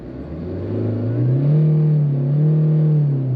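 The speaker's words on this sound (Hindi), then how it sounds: "एक बार आपको इसका साउंड सुनाता हूँ मैं, यानी कि इंजन की क्लैटरिंग कैसी, खासकर डीजल इंजन है ना।" A Tata Nexon diesel engine idles steadily at close range, a low rumbling, clattering drone that rises slightly and holds, with no voices.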